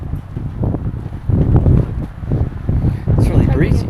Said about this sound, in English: it's really breezy.